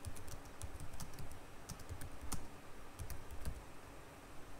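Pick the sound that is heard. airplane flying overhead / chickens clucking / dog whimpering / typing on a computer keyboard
typing on a computer keyboard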